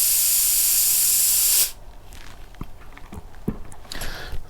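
A loud, steady blast of compressed air blows through a frozen snapper wheel for about a second and a half, then cuts off abruptly, leaving quiet handling clicks and faint shuffling noises.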